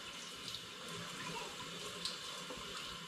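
Running water rinses sticky residue from glass mead bottles in a sink, a steady hiss and splash with brief clinks, fairly faint and without talk.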